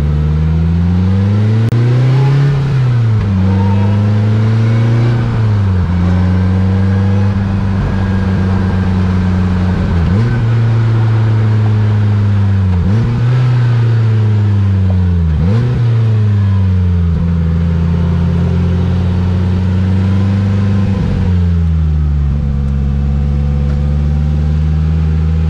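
A 2022 Polaris Slingshot S rolls at low speed, its engine exhaust burbling and droning loudly and close, with repeated gear shifts dipping and rising the engine note every few seconds.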